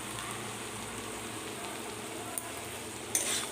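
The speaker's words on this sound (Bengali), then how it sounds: "এবার আমি ভালো করে নাড়াচাড়া করে নেব।" Rajma with spices is stirred in a hot pan, giving a steady close sizzle with soft scraping and a couple of brief clinks of the spoon.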